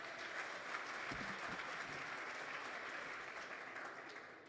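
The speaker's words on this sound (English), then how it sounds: "Another warm round of applause." Sustained, steady applause from an audience at a youth weekend event in the Northern Cape, a dense wash of clapping that holds evenly for several seconds before tapering at the end.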